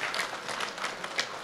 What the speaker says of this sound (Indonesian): Kita berikan aplaus yang meriah kepada pengurus yang baru.